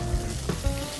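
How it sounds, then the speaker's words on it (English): Fish fries in oil in a pan, giving a steady dense sizzle with small crackles throughout. "Moving my fish around so that it doesn't stick to the pan."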